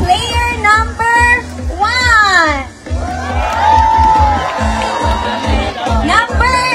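An audience at a concert in Birmingham, UK, cheers and shouts loudly, with high whoops and rising screams from many voices over a dense crowd roar.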